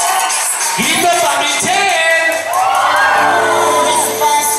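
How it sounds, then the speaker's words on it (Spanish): Loud crowd at a quinceañera dance party in Temamatla shouting and cheering together, a dense roar of whoops and yells over booming sound-system music, sustained and close throughout. "¡Grito pa' Michelle!"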